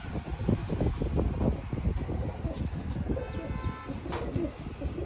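Several pigeons, including a Kaldam pigeon, coo in low, throaty, overlapping calls close by, with rustling and other birds chirping faintly in the background.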